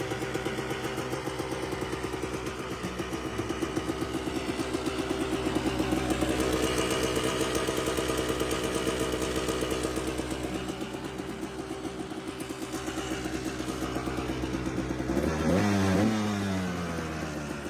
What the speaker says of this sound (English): 1997 Kawasaki KDX 200 2-stroke, a legendary off-road machine known for its amazing reliability and punchy torque